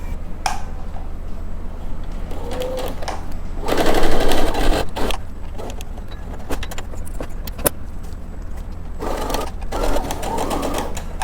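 Sewing machine stitching down a patch pocket and its lining, a close whirring run of needle strokes that speeds up and slows, broken by short pauses and small clicks of fabric handling.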